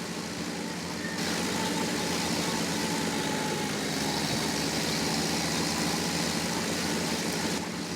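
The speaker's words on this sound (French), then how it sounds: "C'est la première fois que là je roule de la terre, rouler en gros, casser les mottes." Tractor rolling ploughed soil to break up clods in Farming Simulator 17, a steady mid-pitched engine drone with rumbling machinery running continuously and evenly throughout.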